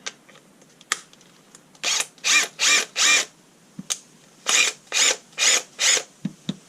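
A Kielder 18V cordless impact wrench runs in two sets of four short, buzzing bursts of rattling hammering, close and loud, separated by a brief pause with scattered clicks and clunks of handling.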